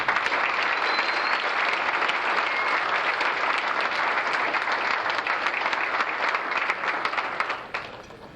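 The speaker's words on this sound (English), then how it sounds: "Please join me in a round of applause." An audience applauds steadily at a high school FFA banquet, dense clapping holding for several seconds before tapering off near the end.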